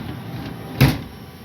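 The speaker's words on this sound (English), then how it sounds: "then you close the doors" The doors of a machining setup holding a raw casting are pulled shut with one short, close thud in an otherwise quiet room.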